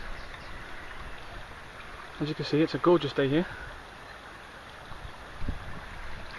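Wind blowing across fields beside a small running river on old manor grounds in the UK, a steady broadband rush with someone speaking briefly partway through.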